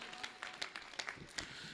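Applause at a Hindi kavi sammelan poetry recital: a scattered crowd claps in uneven bursts, sharp individual hand claps standing out close by over a low room background, faint overall and lasting under two seconds.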